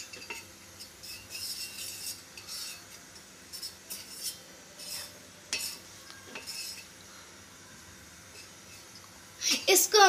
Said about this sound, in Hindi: देखो यहाँ पे दूध में ना मैं थोड़ा सा मतलब कस्टर्ड पाउडर मिलाती है और साथ में है शुगर